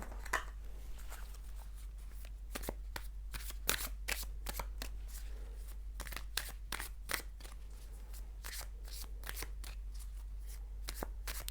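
Kali oracle cards are shuffled in rapid bursts of crisp riffling and slapping, close but quiet, under a low steady hum with no talking.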